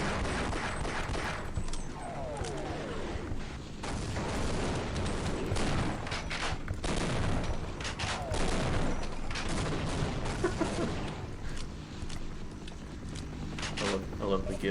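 Automatic gunfire sprays in the Half-Life video game, dense rapid bursts of shots running through the whole stretch with other game noise and a voice talking over it.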